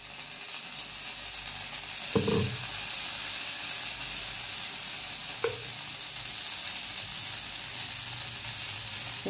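Moong dal and rice batter spooned into a hot pan, giving a continuous close sizzle with two brief scraping clatters of the spoon, no voices.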